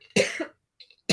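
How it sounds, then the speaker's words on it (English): A single harsh cough bursts out, followed by a brief faint breath, then a second cough starts at the end. "This is my students giving me this nasty cough."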